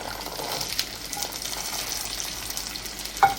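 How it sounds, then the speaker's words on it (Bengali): Peeled garlic fries in a pan with a steady, moderate sizzle that runs throughout, broken by a brief clink near the end. "রসুনটাকে কিছুক্ষণ ভেজে নিব"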